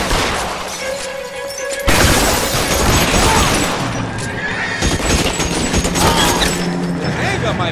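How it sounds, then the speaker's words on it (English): Rapid automatic gunfire rattles in LA Noire gameplay, loud and dense in sustained bursts mixed with other game sounds and effects. "machine gun now"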